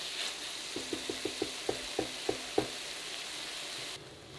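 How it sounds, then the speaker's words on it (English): Onions sweat in a pan for a dark chocolate peanut butter chili, a gentle low sizzle under a regular run of about eight light tapping stirs, then steady hiss. "This stage, we are sweating the onions."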